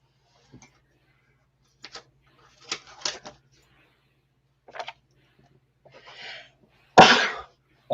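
One loud, close sneeze near the end, after scattered quiet clicks and small sounds in an otherwise hushed room.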